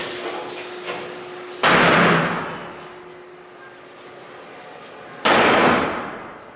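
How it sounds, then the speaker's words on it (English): Small sledgehammer knocking apart a stout marine-grade plywood structure on wheels: two loud, sharp, near blows with a splintering crack, each followed by a decaying rattle, separated by a quiet gap of about three and a half seconds. "take the little sledge and knock this apart"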